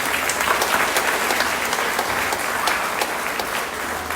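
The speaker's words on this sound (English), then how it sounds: "give our sponsors a big round of applause." Sustained audience applause at a Little Miss Apple Festival pageant honoring the sponsors: dense, steady clapping from a sizable crowd, fairly loud and continuous, tapering slightly near the end with no talk over it.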